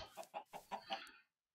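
A chicken in the Terracotta survival game gives a run of five close, rhythmic clucks that end in a short, higher squawk and then fall silent.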